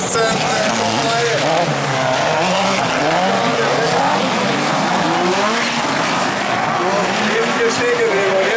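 Autocross race cars tear around a track at Seelow, engines roaring loudly and continuously with tire squeal and skidding, while a German commentator talks over the noise.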